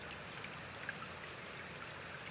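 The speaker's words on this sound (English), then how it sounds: "just by hearing the sounds of water coming into your field of awareness." Flowing water in a calm meditation setting, a soft, steady, distant trickle with faint scattered droplets throughout and no voices.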